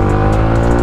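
A Yamaha R15 v3 motorcycle engine holds a high rev in a steady, loud, continuous drone with no talk over it, lasting just under a second.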